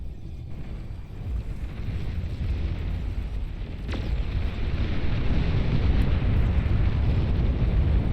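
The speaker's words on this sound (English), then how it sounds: "I gotta get a shot of these nukes firing away here" Nukes firing and exploding in the strategy game Beyond All Reason, a deep roaring rumble that builds in loudness, with a sharp crack near the middle and a sustained heavy blast afterward.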